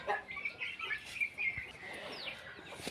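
Native country chickens clucking in a shed, several quick, soft clucks and calls in close succession, moderately near, with a faint background hum and no talk.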